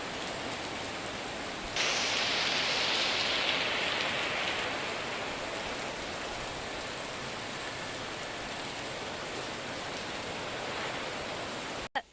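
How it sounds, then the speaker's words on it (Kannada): Heavy rain pours down steadily in Mangalore, a dense, close, continuous hiss that swells louder for a few seconds before settling, ending with a brief sharp knock. "ಇವಾಗ ಎಷ್ಟು ಜೋರು ಮಳೆ ಬರ್ತಿದೆ"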